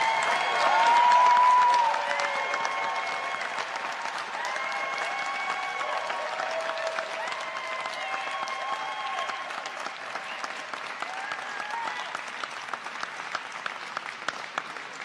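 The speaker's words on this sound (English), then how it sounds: "How you're clapping and yelling is how I'm feeling inside, people." A large crowd at a justice rally in the Pennsylvania Capitol in Harrisburg claps continuously, with whoops and shouted cheers rising loudly at first, then a sustained roar of applause echoing through the hall.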